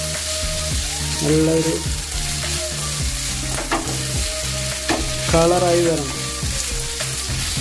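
Beef sizzles loudly in a pan during a deep-fry roast, with repeated scraping stirs over a dense continuous frying hiss while a voice speaks briefly.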